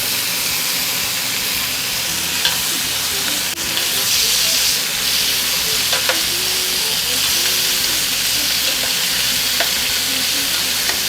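Beef rouladen sear in a hot pan, giving a loud, steady sizzle and hiss that fills the whole stretch, with faint crackles and pops scattered through it.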